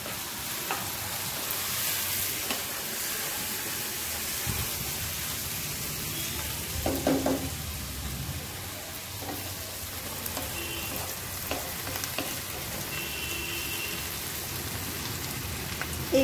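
Chopped green chili fries in hot oil for a dhaba-style egg tadka, giving a continuous rain-like sizzle with light stirring clicks and scrapes throughout, fairly quiet and without talk.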